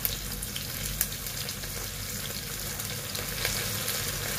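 Chicken leg adobo fries in a pan as soy sauce is poured in, giving a dense, loud, continuous sizzle with a few brief splashy bursts and no talk.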